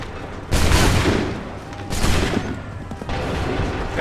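Musket volleys boom in the Assassin's Creed 3 Remastered video game, three loud crackling bursts about a second and a half apart, each trailing off into a rumbling tail with no talk over them.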